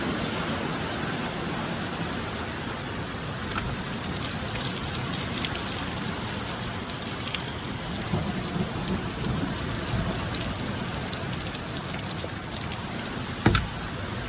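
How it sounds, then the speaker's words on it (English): Steady, loud rain pouring down outdoors with a constant hiss, a faint rumble of thunder underneath and a sharp knock near the end; no voices. "God bless, it's raining."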